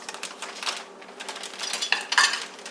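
Crinkling and rustling of a stubborn easy-open food package being worked at in a home kitchen, a steady run of small crackles that grows louder and sharper toward the end, with no talking.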